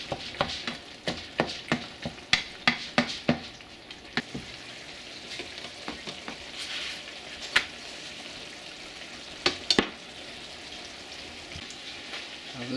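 Grease sizzles and crackles steadily in a frying pan as food cooks, with a cluster of sharper pops early on and scattered spits later, moderately close with no talking.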